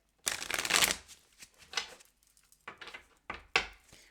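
Tarot cards are shuffled by hand in several bursts of riffling and sliding, close and crisp, with short pauses between the shuffles.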